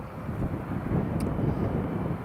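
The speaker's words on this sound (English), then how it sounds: "There's the Sun Express just taxiing up" A Sun Express airliner taxiing at Newcastle Airport: a low, steady engine rumble with wind buffeting the microphone, carrying on evenly with no voices.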